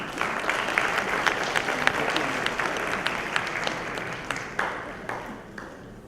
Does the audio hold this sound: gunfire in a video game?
no